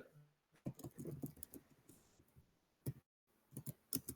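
Quiet, irregular clicking of keys in quick bursts with short pauses, like fast typing on a computer keyboard close by.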